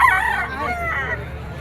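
A bull stag gold rooster crows once at a poultry market in Padre Garcia, Batangas, a close, fairly loud crow that fades over about a second against a quiet background.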